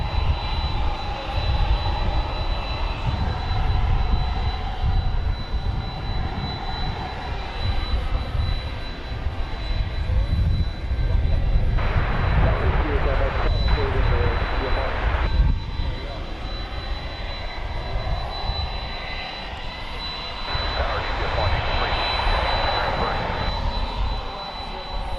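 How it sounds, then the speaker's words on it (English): An American Airlines Airbus A321 departs DFW airport at night on a flight to Palm Springs, its jet engines rumbling as a broad, steady roar at moderate distance with swelling surges, while a voice talks intermittently over it. "Headed out. American flight 2709 to Palm Springs. It's an Airbus"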